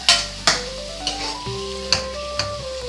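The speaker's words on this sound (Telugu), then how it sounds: "ఇవి బాగా కొంచెం ఫ్రై అవనిద్దామా" Finely chopped onions fry in a pan for a jeera rice curry, with a steady sizzle broken by several sharp stirring scrapes and clinks, close and alone.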